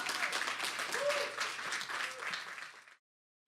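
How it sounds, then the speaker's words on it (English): Audience applause at a speaker-series talk, a sustained roar of clapping that rises, holds, then tapers and cuts off into silence after about three seconds. "Let's give her a big round of applause, everybody."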